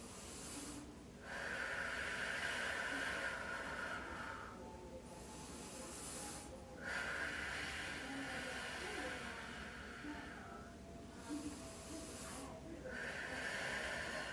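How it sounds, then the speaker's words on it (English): Slow, deep breaths during a core yoga pose with hips lifted, each inhale and exhale a long soft hiss close to the microphone, repeating in a steady rhythm of roughly three cycles with brief pauses between. "Take a few deep breaths here."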